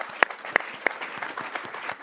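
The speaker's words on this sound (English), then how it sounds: "let's give her an applause." An audience claps at a live event, with a few sharp, loud claps standing out early and then a scattered, thinning patter of applause fading over about two seconds.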